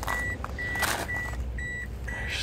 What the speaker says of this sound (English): I can hear it beeping.